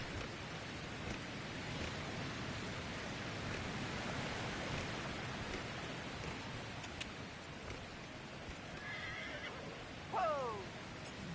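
A horse neighs in Dragon Age Inquisition, one short whinny near the end of the clip over steady rain-like ambient noise, with a faint clip-clop of hooves.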